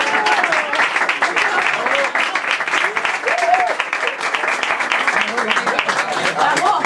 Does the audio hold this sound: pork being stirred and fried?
no